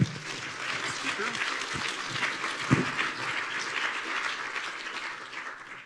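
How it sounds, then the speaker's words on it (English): Conference audience at a library technology event gives a round of applause to a speaker, a steady wash of clapping lasting several seconds with a few sharper claps and faint voices underneath, tapering off at the end. "Let's give another round of applause for the speaker."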